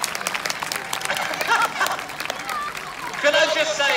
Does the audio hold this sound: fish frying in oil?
no